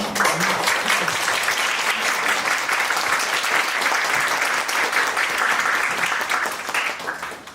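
A church congregation at a monthly worship service applauds as a pastor comes forward, with dense, loud, sustained clapping that fades near the end.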